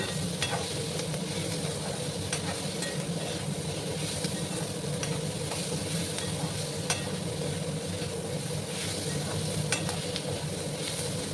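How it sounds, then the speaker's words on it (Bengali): Onions seasoned with turmeric and salt fry in a pan, giving a continuous, close sizzle over steady background hiss, broken by light stirring clicks and no speech. "আর একটু সময় আমি পেঁয়াজগুলোকে ভেজে নেবো"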